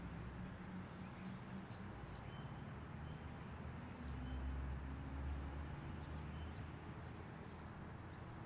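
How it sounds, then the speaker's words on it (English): Birds chirp faintly outdoors in a short, repeated series of high calls over a steady background hum, distant and quiet. "Even the birds sing of God's praises as we hear them in the background."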